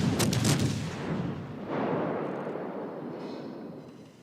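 Gunfire in a naval battle video game: a quick burst of sharp, loud shots at the start, then a second heavy boom that rolls away into a long, fading rumble, with no talking.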